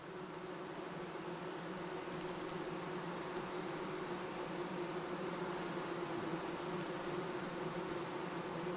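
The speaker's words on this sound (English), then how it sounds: "The bees pack it down to make room for the next load, and the next." Honey bees work inside their hive, a dense, steady hum of many wings that stays even and fairly soft throughout, with no voices.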